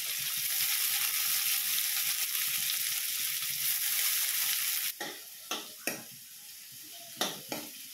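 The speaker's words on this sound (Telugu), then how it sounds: "ఇప్పుడు ఉల్లిపాయలు, పచ్చిమిర్చి అన్నీ వేయించేసుకుందాము." Onions and green chillies fry in oil in a pan, first a loud continuous sizzle, then quieter crackling punctuated by several sharp scrapes and knocks of a utensil stirring against the pan.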